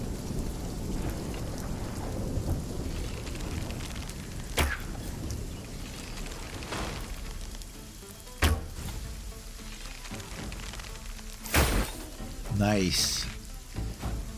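Steady rain hisses through a stormy video game scene, cut by several sharp thunder cracks, with a person speaking briefly over the storm.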